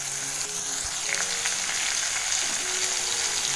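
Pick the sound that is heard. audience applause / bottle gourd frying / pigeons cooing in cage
bottle gourd frying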